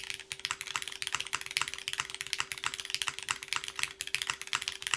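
Fast typing on a Diversity TKL mechanical keyboard, a crisp stream of clacky keystrokes with an even, continuous rhythm, close up and alone.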